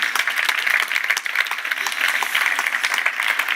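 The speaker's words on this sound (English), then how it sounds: "I think that deserves a round of applause." Sustained applause from an audience at a European Space Agency event announcing a new class of astronauts, a dense, even patter of many hands lasting several seconds without a break.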